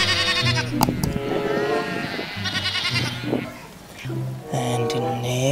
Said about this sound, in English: Wow, beautiful look, guys, sheep.